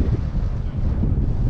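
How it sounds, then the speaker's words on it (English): Steady wind buffets the microphone outdoors at a power sports race track on a chilly morning, a continuous low rumbling roar with gusty swells and no speech. "little chilly, little windy,"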